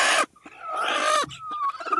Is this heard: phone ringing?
no